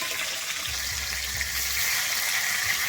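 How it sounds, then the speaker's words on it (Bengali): Rui fish fries lightly in hot oil for a Bengali-style curry with flat beans, giving a steady, close, dense sizzle that runs the whole time with a few soft low bumps from the pan. "আমি মাছটা কিন্তু এখানে খুব বেশি কড়া করে ভাজবো না হালকা করেই ভেজে নেব"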